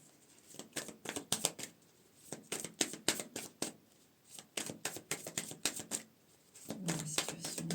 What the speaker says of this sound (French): on va remélanger un petit coup